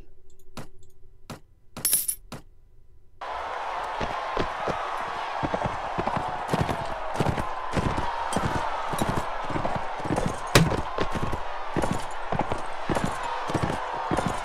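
A horse gallops in the video game Mount & Blade: Warband, its rapid, even clip-clop hoofbeats rolling steadily and close after a few sparse clicks in an otherwise quiet opening.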